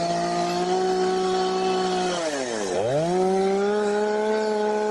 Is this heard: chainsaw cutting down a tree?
yes